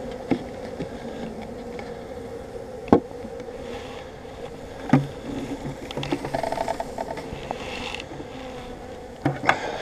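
A steady close buzzing of honeybees during a swarm inspection hums throughout, with occasional sharp clicks and knocks breaking in.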